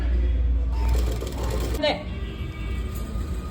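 A sewing machine with a normal presser foot runs briefly, stitching thread piping onto the main fabric. A low motor hum and whirr are heard close up for under two seconds, followed by quieter handling.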